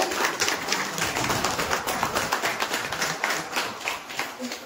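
Audience applause at a school batch reunion get-together, many hands clapping in a dense, continuous patter at moderate distance for the full length, without a break.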